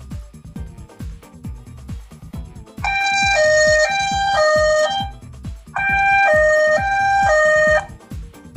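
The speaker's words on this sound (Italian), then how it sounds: "posso tenerla accesa se voglio ascoltare questa diciamo sorta di sirena" An Easyfone Prime A7 phone's emergency alarm siren sounds in two bursts of stepped, rising and falling tones, loud and repetitive, over a steady ticking pulse.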